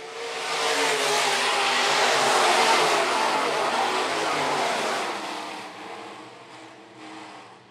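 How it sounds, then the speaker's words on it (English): Sport modified race cars roar around a dirt oval at Phillips County Raceway, a loud sustained wash of engine noise that swells then slowly fades as the pack passes, with no talk over it. "Matt Firm will exit corner number 4 and grab lap number 1 here tonight."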